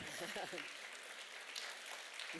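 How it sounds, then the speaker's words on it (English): Audience clapping at a carer keynote talk on recovery, a soft, steady spread of applause that rises just after a brief bit of speech and carries on, fairly quiet and distant. "I think we'll have a clap and a stand."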